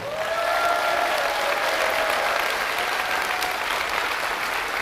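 An audience at a political lecture in Gwangju breaks into sustained, even applause, a dense wash of clapping from a large crowd lasting about five seconds, with no voices over it.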